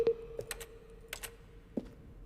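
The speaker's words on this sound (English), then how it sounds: "A selection of the sounds used throughout the game when the buttons are pressed." Button presses from The Stanley Parable video game, each a keyboard keystroke blended with a synthesized tone: a handful of crisp clicks, some paired with a short steady hum, spaced irregularly and heard alone up close.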